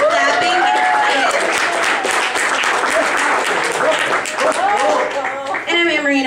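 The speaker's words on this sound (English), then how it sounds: "Keep clapping." Loud, sustained applause from a comedy show crowd fills the room, with a voice talking over the clapping near the start and end.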